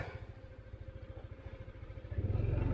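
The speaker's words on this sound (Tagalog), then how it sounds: "Naging motor cross yung motor namin." Motorcycle engine laboring with a steady throbbing pulse as it climbs a rough uphill road, growing louder and heavier near the end as it revs harder.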